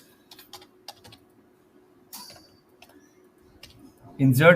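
Fingers typing a SQL insert command on a computer keyboard: sparse, light separate key clicks spread out over a quiet background, ending in a sudden louder burst of voice.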